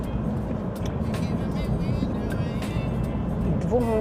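Interior drone of a car driving along a road in Odesa in changing weather, a steady low engine and tyre rumble close by, with someone talking over it.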